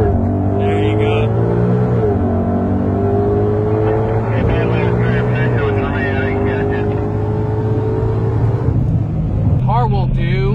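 A car revs and accelerates hard at a drag racing event, its engine note climbing and shifting in steady tones, with people talking over it near the end.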